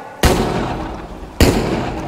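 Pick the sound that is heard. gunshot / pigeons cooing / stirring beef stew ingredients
gunshot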